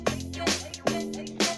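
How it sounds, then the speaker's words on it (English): Log drum built from high-pitched 808 notes in FL Studio Mobile, playing a short rhythmic pattern of punchy, pitched hits with a bright attack, roughly four thuds in quick succession, loud and alone. "to do that cool log drum effect that plays here"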